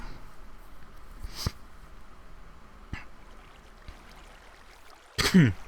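A single abrupt cough bursts out near the end, after a quiet stretch with faint background hiss and a few small clicks.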